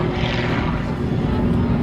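A propeller aircraft flies a high barrel roll from left to right at the Southport Airshow, its engine a loud, steady droning hum with a low tonal buzz and no break.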